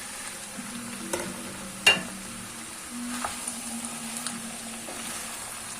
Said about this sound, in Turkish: Kavuralım biraz.